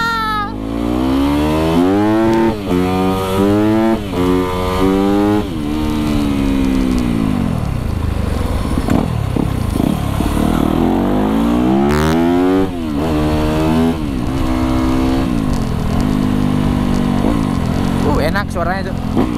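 Yamaha YZ 250FX supermoto motorcycle engine revving hard through repeated rising and falling throttle sweeps, loud and close, with voices talking over it.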